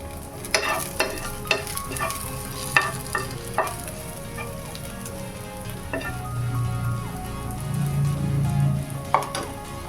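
Sliced onion and a few cloves of garlic sautéing in a pan, with sharp spatula taps and scrapes in a quick series early on, then a rising low sizzle that swells toward the end, close and without speech.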